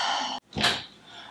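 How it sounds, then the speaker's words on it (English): A household door swings shut with one firm thud after a moment of silence, close by, the impact followed by a short fading rumble. "Shut the door."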